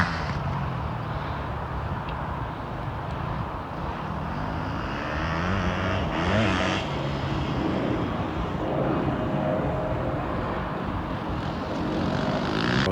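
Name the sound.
enduro motorcycles riding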